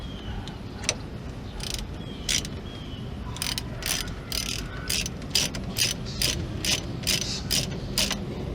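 A ratchet wrench snugs bolts on a Dodge Caravan driver-side brake assembly. Rapid close bursts of ratchet clicking come in quick rhythmic runs, sparse at first and then nearly continuous over a low background hum.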